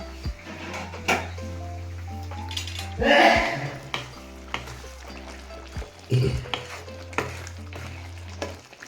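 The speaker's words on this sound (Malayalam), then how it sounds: "ഇളക്കി ആയോ നോക്കട്ടെ." Jackfruit seed curry stirred in a metal pot with a spoon, giving scraping clinks and knocks at irregular intervals over a low steady cooking hum, with a louder burst of scraping near the middle.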